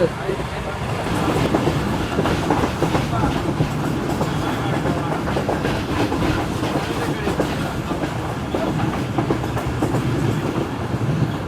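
The Karakoram Express in a new rake runs on the rails between Tando Masti Khan and Khairpur in Pakistan, a loud steady rumble with rhythmic clickety-clack from the wheels, heard close from on board with faint voices underneath.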